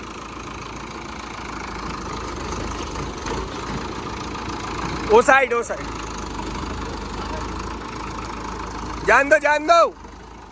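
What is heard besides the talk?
new Sonalika tractor engine running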